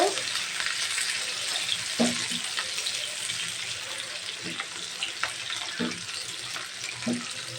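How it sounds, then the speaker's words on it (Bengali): Chopped onions frying in oil for a chicken curry, a bright continuous sizzle punctuated by regular scraping knocks of a spatula stirring the pan. "আমি 1 কাপের মতন পেঁয়াজের কুচি দিয়েছি। এখন এটাকে আমি ভালো করে ভেজে নেব।"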